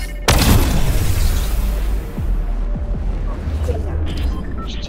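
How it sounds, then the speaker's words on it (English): A shockwave grenade goes off in Fortnite Chapter 3 Season 3 as one sharp, loud boom near the start, then a low rumbling tail and scattered faint game noises for the rest of the stretch. "Well, I do have a shockwave."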